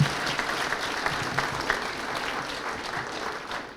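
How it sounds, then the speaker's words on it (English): Audience applause at an outdoor groundbreaking ceremony for a college nursing and health sciences building, a steady, dense clapping that lasts throughout and slowly tapers toward the end. "Let's give him a round of applause for that."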